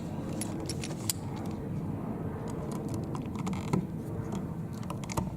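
Screws being driven into an electrical outlet faceplate by hand, with faint metallic clicks and small ratcheting scrapes over a low steady background, close and quiet with no talk.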